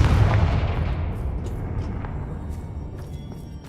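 The Confringo fire spell from Hogwarts Legacy detonates in a heavy, booming blast that starts loud and rolls off into a long rumbling decay, with a few faint crackles trailing behind.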